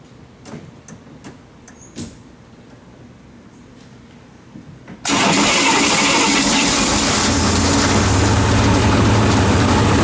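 A few faint clicks and knocks, then a sunken Shoal Runner boat engine with a rebuilt starter suddenly catches and runs, a loud steady rumbling roar for the last five seconds.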